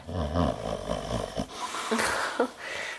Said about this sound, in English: Those snores are so cute.